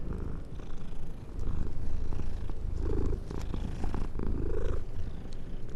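A cat purrs in the video game Mortal Shell, the cat wearing the Fenrir skin. The purr is a loud, continuous rumbling drone with a slow breathing rhythm, heard alone.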